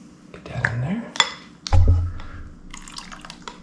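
Whey-like liquid drips and trickles while mozzarella cheese is being made. Close, uneven drips and a short pour are mixed with glassy clinks of kitchenware and a brief low thump.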